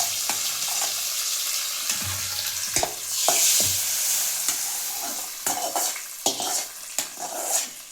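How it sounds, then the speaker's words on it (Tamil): A hot tempering of spices and curry leaves is poured into a lentil and vegetable kootu, giving a close crackling sizzle broken by sharp clinks and stirring knocks, with a faint high hiss. "தாளித்து கொட்டியாச்சு."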